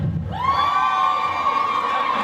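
An audience from the Texas Panhandle cheers and whoops in a loud, continuous crowd roar, with one high shout standing out above the rest.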